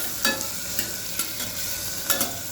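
Tomatoes being stirred into Gujarati vaghareli khichdi in a pan: a soft sizzle under a series of spoon scrapes and taps, about six strokes close by, with no speech.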